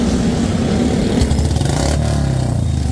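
A Royal Enfield Bullet motorcycle engine runs loud and close, its low thumping idle rising briefly into revs and settling again over a few seconds.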